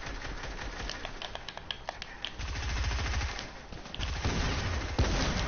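Rapid bursts of Fortnite gunfire crackle through a squad firefight, sharp repeated shots growing denser and louder toward the end, with some heavier thumping underneath.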